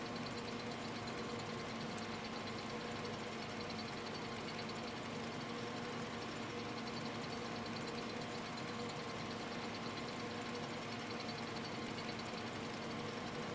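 A Hungarian-made tractor with a 10.3-liter inline-six engine runs at a steady idle. Its low, even drone carries a constant hum and faint rhythmic knock, slightly distant and unchanging throughout.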